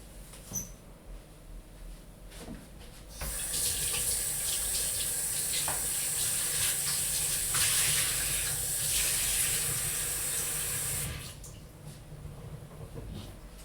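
A kitchen faucet runs into a sink during cleanup while making pizza, switching on after a few seconds of quiet handling sounds, gushing steadily and close for about eight seconds, then shutting off.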